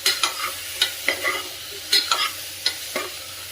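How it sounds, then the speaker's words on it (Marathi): Grated carrot halwa is stirred in a pan with ghee, a spatula scraping in quick irregular strokes over a light sizzle, close by and with no talking. "पुन्हा एकदा व्यवस्थित हलवून घेऊया."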